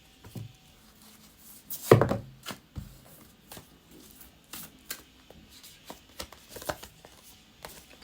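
Tarot cards are shuffled and laid down in a quiet room: a string of separate, near, soft taps and slaps, with one sharper riffle-like burst early on, spaced irregularly with gaps between.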